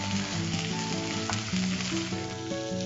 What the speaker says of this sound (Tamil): ஸோ வெண்டைக்காயும் நல்லா ரோஸ்ட் ஆயிடுது.